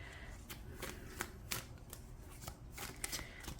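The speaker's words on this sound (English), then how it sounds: "Do a little shuffle here." Tarot cards being shuffled by hand, a quick run of soft papery riffles and taps close up and quiet, over a faint background hum.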